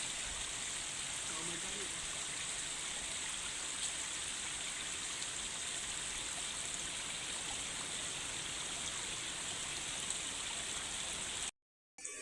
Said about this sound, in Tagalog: Sobrang taas po ng talon